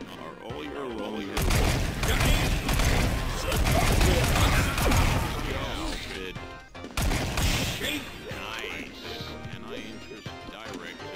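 Gunfire in the video game Fashion Police Squad sounds as bursts of loud impacts and crashes over game sound effects, with a short gap in the middle and someone talking over parts of it.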